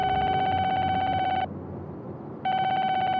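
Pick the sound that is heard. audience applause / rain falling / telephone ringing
telephone ringing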